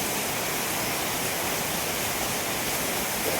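Steady, dense rain pours onto a house with a leaking concrete roof after about fifteen minutes of downpour, an even, hissing wash of sound with no pauses.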